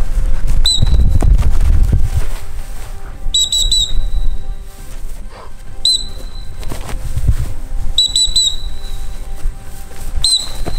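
Short, sharp whistle blasts blown repeatedly during Turkish commando training outdoors in mud, coming in pairs and bursts every couple of seconds over a steady background of rumbling noise and movement.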